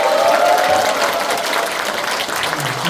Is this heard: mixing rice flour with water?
no